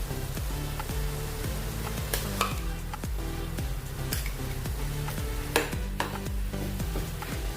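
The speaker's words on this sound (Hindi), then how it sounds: "ये देखिए, अभी हम इसमें अपना मसाला डालेंगे जो मिक्सी जार में हमने पिसा है वो वाला।" Freshly ground masala sizzling in hot oil in a pan while being stirred, a constant loud frying hiss with regular scraping strokes of the spoon against the pan, no talking.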